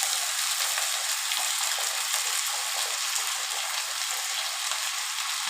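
Sliced green beans tip into a frying pan with meat and tomatoes for an Egyptian-style stew, giving a continuous, close, hissing sizzle that stays even throughout without speech.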